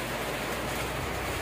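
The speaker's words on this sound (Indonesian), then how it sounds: "Air mengalir deras, hujan deras di tambang." Heavy rain pours down at a coal loading site in Sarolangun, a dense, loud, unbroken hiss with no voices.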